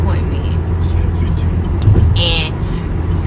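Inside a moving car on the road, a steady low rumble of tyre and engine noise continues throughout, with some voices over it.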